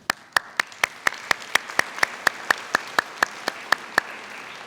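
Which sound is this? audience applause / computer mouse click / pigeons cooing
audience applause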